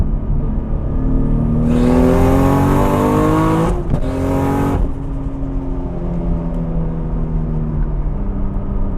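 A turbocharged 1,000 HP Nissan R34 GT-R revs up hard, boost building, pitch climbing through a gear, a brief drop at a shift, then pulling again with a loud, throaty roar.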